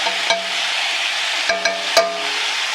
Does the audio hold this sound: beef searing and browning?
yes